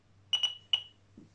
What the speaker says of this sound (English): Okay, so you can hear the beep again